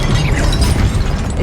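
A Confringo blasting spell from Hogwarts Legacy erupts in a loud, dense burst of explosive noise that fills the short moment, close and forceful, with no voices.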